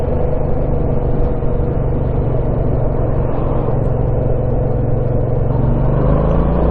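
A Yamaha MT-07 twin-cylinder motorcycle engine pulls steadily in third gear under a gentle throttle opening, giving a loud, continuous drone with a low hum that rises slowly toward the end.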